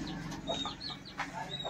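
A hen clucking in a home bird-breeding setup, several soft short clucks and calls scattered over a low background hum, faint and somewhat distant, without speech.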